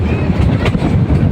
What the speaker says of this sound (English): It is very good and train is moving here.